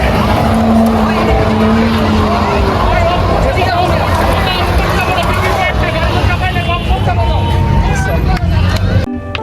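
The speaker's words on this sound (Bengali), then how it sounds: "এখনই কার রেস শুরু হবে।" Cars at a street car race in Dhaka, engines roaring and revving loudly and continuously up close amid crowd chatter and shouting.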